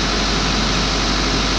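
Old Deutz Fahr DX 4.50 tractor engine running steadily, a constant broadband diesel drone with low rumble, close and unbroken throughout.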